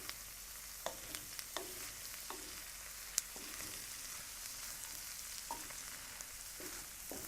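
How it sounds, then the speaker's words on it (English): Chopped garlic sautéing in a pan for meat pies, a soft steady sizzle with intermittent faint clicks and scrapes of stirring, quiet and continuous with no talk. "let this finish sauteing"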